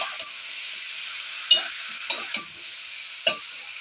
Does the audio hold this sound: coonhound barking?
no